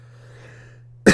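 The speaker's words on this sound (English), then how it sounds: "I just coughed right into the freaking mic there" A single loud, abrupt cough lands right up close to a microphone after a near-silent moment with a faint low hum.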